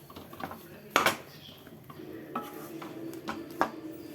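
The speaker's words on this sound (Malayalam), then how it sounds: "ഇടയ്ക്ക് നമുക്കൊന്ന് തുറന്ന് ഇളക്കി കൊടുക്കാം." Vegetable upma stirred in a pot, a few sharp metallic clinks and scrapes of a spoon against the pot, spaced irregularly over a quiet, low sizzle.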